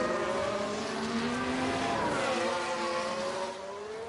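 Several race cars overtaking in F1 Manager 23 at Baku, engines whining loudly and continuously with rising and shifting pitch as the cars jostle past one another.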